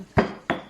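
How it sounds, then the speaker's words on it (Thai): Two heavy thuds of pounding chillies, lime and kaffir lime leaves in a mortar, spaced apart, each ringing briefly with a hard clattering edge, close by with no talk. "ตำกระทุ่นให้ละเอียด"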